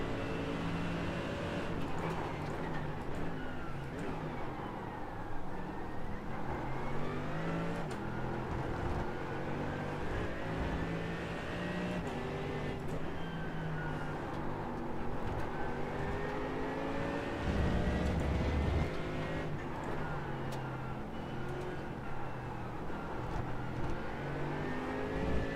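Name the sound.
race cars accelerating, including a BMW, in iRacing video game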